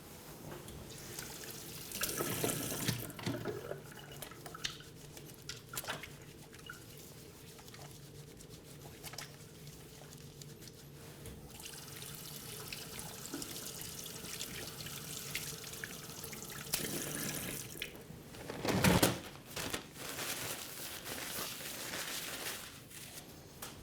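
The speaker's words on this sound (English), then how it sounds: "I'm going to start by washing my hands." A sink tap runs as hands are washed in a clinic exam room before a physical exam, water flowing in bursts with splashes and handling noise, moderately close and steady in between.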